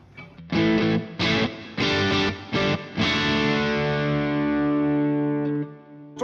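An electric guitar with its natural, already slightly gainy tone, no overdrive pedal engaged, plays several chopped chords, then lets a final chord ring out and fade.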